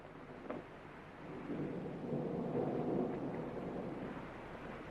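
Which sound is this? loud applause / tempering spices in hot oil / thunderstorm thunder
thunderstorm thunder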